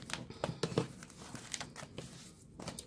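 Playing cards are riffled and mixed by hand, giving a quick run of soft crisp flicks and rustles in irregular bursts, close and fairly quiet, with no voices.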